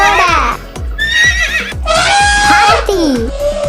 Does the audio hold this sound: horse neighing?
yes